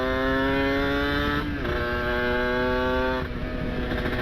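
A two-stroke motorcycle engine revs loud and close, a buzzing whine holding high and then dipping briefly twice as the throttle eases and picks up again.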